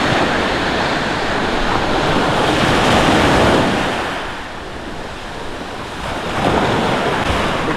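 Sea waves wash onto the brown-sand shore of Kuala Raja beach, a continuous loud surf roar that swells and eases, mixed with wind noise.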